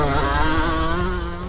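Yamaha YZ125 two-stroke dirt bike riding, a loud, close, buzzing high-pitched engine holding a steady pitch that eases off slightly near the end.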